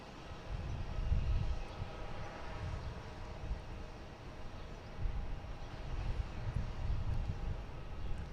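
A JetBlue Airbus A321neo at Boston Logan gives a low, distant jet rumble that swells and fades in soft waves, faint against the open-air background.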